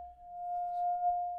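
A pure, steady ringing tone of a wine glass being rubbed with a wet finger, sustained and even with a slight swell, alone.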